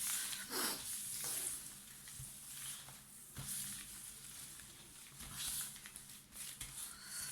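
Tarot cards are shuffled by hand for an evening reading, giving a steady, soft papery rustle and patter with small swells throughout, close and fairly quiet.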